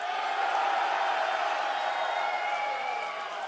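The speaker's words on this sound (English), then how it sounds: "It's getting loud in here. The crowd are going." Tournament crowd in a packed arena gives off a steady, dense roar of cheering that holds at a constant loud level throughout, with no single voice standing out.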